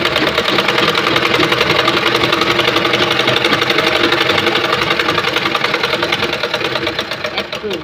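Sewing machine running continuously while stitching a double seam on boys' pants, a loud close mechanical whirr with fast regular needle pulses, easing off slightly near the end.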